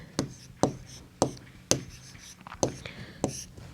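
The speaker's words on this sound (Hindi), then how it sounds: "जुलाई को लिखेंगे हम यहां पे।" Someone writes the word July on a board during a Class 3 maths lesson, six or seven crisp, sharp strokes tapping out at a steady pace, close and clear, with only faint murmuring in the background.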